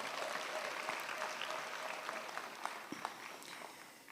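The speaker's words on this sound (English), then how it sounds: "I think that also deserves a round of applause." An audience at a university graduation ceremony claps steadily throughout, a dense patter of applause that tapers slightly toward the end.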